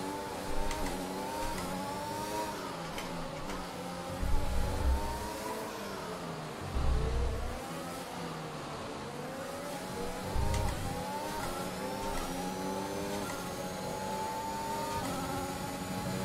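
A Formula 1 race car engine in the F1 2021 video game drones at high pitch, rising and falling through gear changes with a few louder low-end bursts, steady and continuous without voices.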